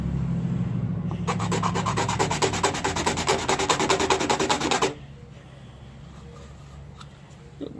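A small piece of sandpaper is rubbed over sharp trimmed edges in quick, rhythmic back-and-forth strokes, close and steady for several seconds, then stops, leaving quiet room noise.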